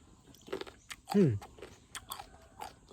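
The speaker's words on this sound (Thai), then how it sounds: "มะม่วงกรอบ กรอบดี กินแล้ว" A person bites into a crunchy sour mango, giving one clear crisp crunch followed by soft chewing, close and fairly quiet, with voices talking faintly around it.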